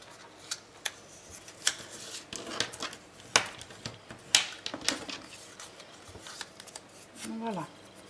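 Scissors snip through material while decorating a page of a leather steampunk album, crisp close-up cuts coming in irregular bursts with small handling clicks between them.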